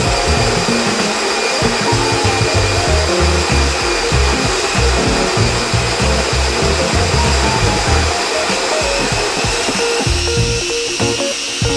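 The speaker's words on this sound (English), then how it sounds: "I'm gonna grind this coarsely and I'll be right back." Electric coffee grinder coarsely grinding coffee beans for cold brew, a loud, steady whirring motor drone with a gritty crunching edge, running continuously and close without talk.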